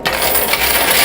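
Quarters clattering and dropping inside a coin pusher arcade machine, a dense, steady metallic jingle of many coins spilling at close range, loud and continuous with no talk.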